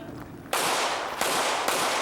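Pistol shots fired by a competitor at an IDPA shooting match, three sharp loud reports in quick succession, each ringing out with a broad echo over a quieter outdoor background.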